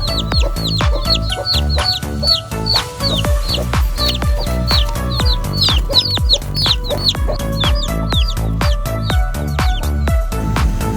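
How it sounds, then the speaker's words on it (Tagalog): A flock of one-week-old native chicks peeping in a rural setting, with dense, high, rapid chirps overlapping continuously, loud and close throughout. "1 week old ang ating native chicken."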